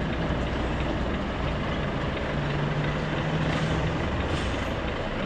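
A heavy truck hauling 44 tonnes of fish reverses into a shed, its diesel engine a steady, loud low rumble with a faint hiss and a brief tonal whine partway through.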